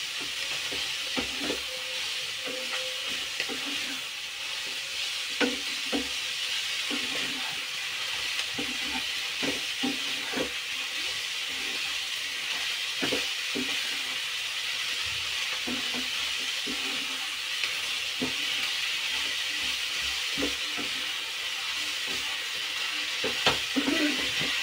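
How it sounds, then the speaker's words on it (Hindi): Fenugreek leaves fry in a pan with a constant sizzling hiss, punctuated by frequent scraping clicks of a spoon stirring and turning them, close and steady throughout. "इसी के साथ मैं इसमें मेथी डाल दूंगी, जिससे कि मेथी हमारी अच्छे से भूनकर तैयार हो जाएगी।"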